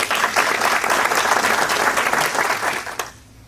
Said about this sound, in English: applause to James Conley